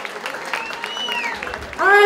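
Applause rises from a dinner audience at a sports team's 30th anniversary dinner, joined by tonal whoops and a voice that briefly carries over the clapping.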